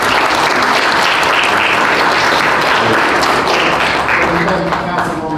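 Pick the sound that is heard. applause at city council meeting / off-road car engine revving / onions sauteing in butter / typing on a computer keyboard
applause at city council meeting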